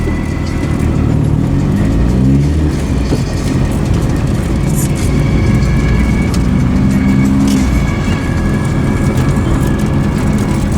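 A car drives steadily, its low engine drone and road rumble continuous and close throughout, with occasional faint voices beneath.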